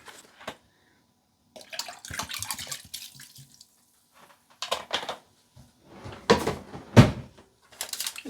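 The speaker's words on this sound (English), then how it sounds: "going to add the rest of my expired vinegar" Leftover expired vinegar is poured into a basin of hot water to make a dye bath for vintage slips. It comes as several short splashing, gurgling bursts with quiet gaps between them, close by and fairly clear.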